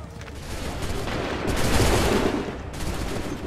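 Musket volleys in Assassin's Creed III roar in a dense, continuous crackle of massed gunfire, swelling loudest mid-clip before easing slightly, with no talking over it.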